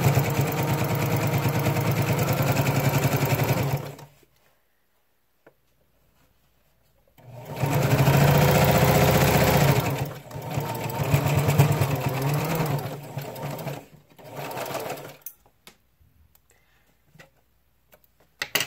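Close, loud bursts of a sewing machine stitching back and forth at the edges of the fabric, running in several stretches separated by pauses of silence and small clicks.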